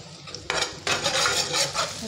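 Spoon stirring red chilli powder, garam masala and kasuri methi into browned onion gravy in a pan, two short bursts of scraping and clinking, close and fairly quiet.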